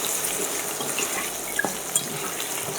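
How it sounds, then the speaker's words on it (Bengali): New potatoes frying lightly in a pan for an aloo-bhetki fish dish, giving a steady close sizzle with a few faint pops and no talking. "আলুটাও হালকা করে ভেজে নেব"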